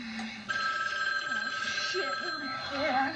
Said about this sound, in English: Can't help it, the phone keeps ringing.